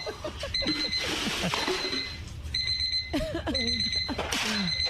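An electronic alarm clock in a video game rings with repeated, high-pitched beeping pulses, while a person talks and exclaims loudly over it nearby.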